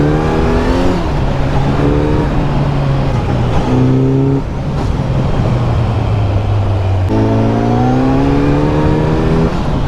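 A Kawasaki Z900 motorcycle rides a rough mountain road near Mussoorie, its engine loud and close, repeatedly revving up through the gears with shifts and brief throttle dips, with no talk over it.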